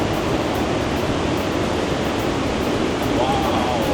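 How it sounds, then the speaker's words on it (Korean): Loud, steady roar of Iguazu Falls in Brazil, a dense broadband rush of falling water that fills the whole clip without pause, heard up close with no voices above it. "이제 저희는 폭포 안으로 들어가요"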